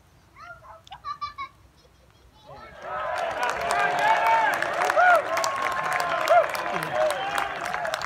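A golf gallery at the US Open at Pebble Beach erupts in sustained cheering and applause after Gary Woodland's short birdie putt, loud and close, with brief voices just before the roar.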